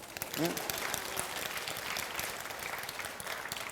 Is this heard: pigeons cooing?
no